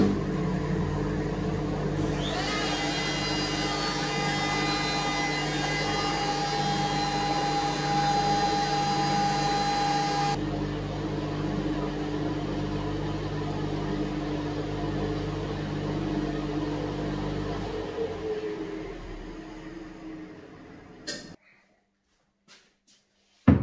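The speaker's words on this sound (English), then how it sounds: "I'm going to do that with my small palm router" A small palm router fitted with a 45 degree chamfer bit runs in a high, steady whine while cutting Rhodesian teak, then winds down to silence near the end.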